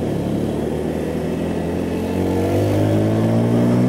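A Bajaj Pulsar P150 single-spark-plug motorcycle accelerates hard on a road test, its engine note climbing steadily in pitch and loudness, close and unbroken.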